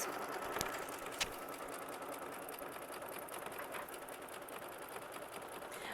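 Sewing machine stitching a zigzag stitch on quilting fabric for butterfly half-square triangles, a continuous fast mechanical whir running steadily throughout, close and fairly loud with no talking.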